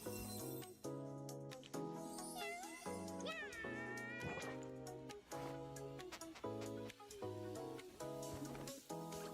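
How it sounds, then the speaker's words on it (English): A cartoonish cat meows in a video game trailer, several rising and falling mewing calls riding over a loud, busy musical score with chimes and clinking tones. "Cat."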